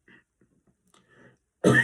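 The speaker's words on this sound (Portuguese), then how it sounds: "Desculpe, mas está um pigarrinho aqui" A short, rough throat clearing bursts out loudly after a few faint mouth noises and quiet breaths.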